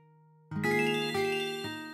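An electronic phone ringtone begins suddenly, playing bright melodic tones in a repeating pattern, loud and close, after a quiet lead-in tone.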